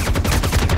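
Rapid gunfire from the Star Citizen video game, a dense run of overlapping shots and bursts sounding loud and continuous through the whole short stretch, with no talk.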